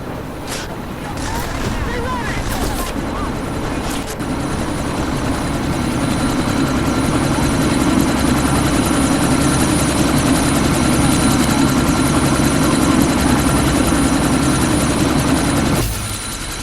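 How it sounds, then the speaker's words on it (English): A helicopter idles loudly before take-off in the video game Deus Ex: Mankind Divided, a steady close rotor and engine roar that holds throughout with a few sharp knocks early on. "That chopper's about to take off!"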